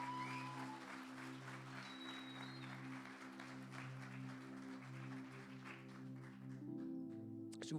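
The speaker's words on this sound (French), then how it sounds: "Vous pouvez l'applaudir," A congregation at a Christmas church celebration applauds as a child comes up on stage, a soft, distant patter of clapping beneath sustained musical tones from a keyboard or organ.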